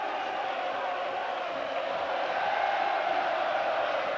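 A large stadium crowd at a UEFA Cup Final, Galatasaray against Arsenal, keeps up a dense, steady roar of applause and cheering, loud and continuous throughout.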